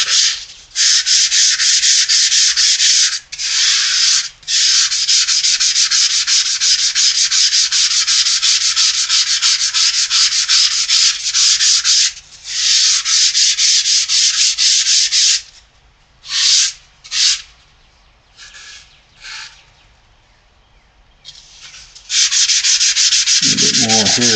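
Sanding a tooling-board model fuselage by hand, loud, steady abrasive rubbing strokes in long sustained runs, broken by short pauses and a few brief bursts near the end, with no talking.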